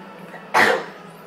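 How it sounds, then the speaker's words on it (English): A single short, sharp cough, loud and close, over a quiet room background. "Sorry for my cough."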